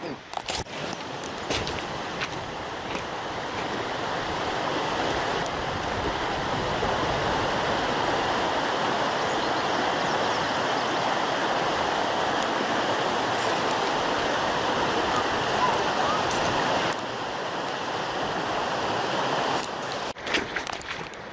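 Steady rushing water from a river flowing nearby, a continuous broadband roar with occasional faint voices and handling noises.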